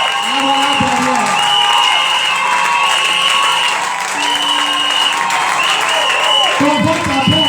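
A church congregation at an all-night prayer service applauds and acclaims the Lord with sustained clapping and crowd noise, mixed with voices and music.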